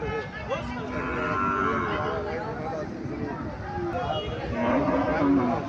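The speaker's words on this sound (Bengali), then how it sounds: "এখানে একটা গাভী দেখা যাচ্ছে, হাড্ডিসার গাভী, খুব লম্বা চলে আছে গাভীটা।" A cow lows at a busy cattle market among bony, thin cattle, its moos drawn out and fairly near over a steady babble of crowd noise and voices.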